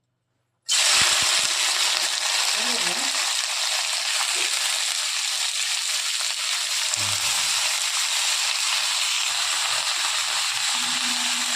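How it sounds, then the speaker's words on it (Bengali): Beans, squash and potatoes fry in hot oil in a wok, giving a loud, steady broadband sizzle that starts abruptly and holds for about eleven seconds, with faint clinks and scrapes of stirring underneath. "তার জন্য কড়াইটা বসিয়ে দিয়েছি, তেলটা গরম হয়ে গেছে। এখন সবজিগুলো দিয়ে দেবো।"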